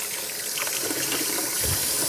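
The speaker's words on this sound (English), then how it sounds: "So I do run some water while I am washing these greasy dishes because I use lots of soap" Tap water running steadily into a kitchen sink while greasy dishes are hand washed with soap, a close, continuous hiss and splash with slight shifts as hands move under the stream.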